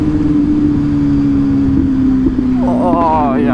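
A Suzuki SV1000 motorcycle engine drones steadily while riding, with a loud, constant low hum and wind noise throughout. A voice briefly rises over it near the end.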